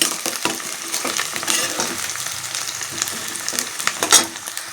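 Slit green chillies and curry leaves frying in oil until browned for a fish curry, a loud continuous sizzle broken by spatula scrapes and stirring taps, close up.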